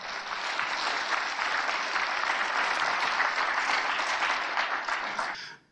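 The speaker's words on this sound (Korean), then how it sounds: "박수!" An audience at a talk on the Korean War's allied nations bursts into sustained applause, dense and even for about five seconds before stopping abruptly.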